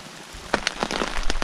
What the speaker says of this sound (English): Yeah, so the rain continued.